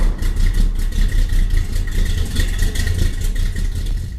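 A car engine runs close by at a steady, throbbing idle with an even pulsing rhythm and no voices, matching a 1956 Thunderbird turning over and settling into idle.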